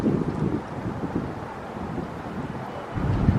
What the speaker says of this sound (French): Quand on est en plein vent, il fait un peu froid.